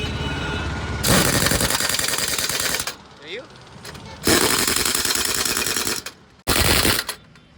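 Loud mechanical rattling and hammering while wheel bolts are tightened on a dumper truck tyre, likely a power wrench, in three long bursts separated by short pauses with a steady engine idle underneath.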